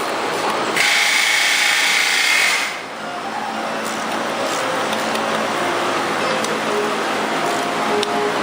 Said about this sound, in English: Now unbolt the intake manifold, the throttle body off the intake manifold,